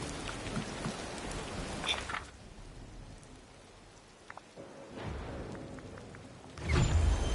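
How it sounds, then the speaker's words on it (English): Steady rain falls in the Disney Dreamlight Valley video game, a dense hiss of drops that eases off midway, then swells again with a heavier, louder rumble at the end. "It's raining."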